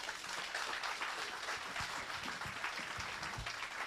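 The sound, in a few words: audience applause at a grand opening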